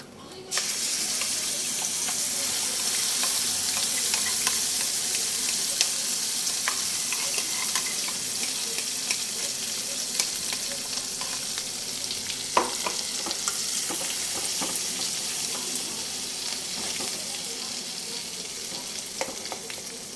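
Gongura sorrel leaves fry in a pan with a steady, hissing sizzle that runs throughout, joined by occasional light clinks of stirring.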